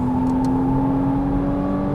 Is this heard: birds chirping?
no